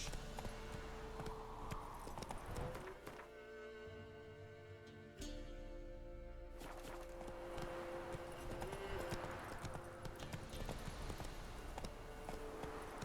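Horse hooves running in The Witcher 3 video game, a steady rhythmic galloping clip-clop that continues throughout over a layer of game music and ambience.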